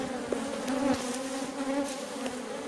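Honey bees buzzing around an open hive during an inspection: a steady, close droning hum with shifting pitch as individual bees pass near, with soft knocks and rustles, no talking.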